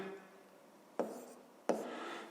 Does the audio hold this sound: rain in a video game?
no